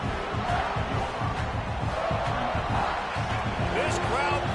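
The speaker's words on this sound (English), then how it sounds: "This crowd bringing the energy and noise early." A roaring stadium crowd in a college football video game, a dense, steady wall of cheering and noise that fills the whole clip, with a commentator's voice over it.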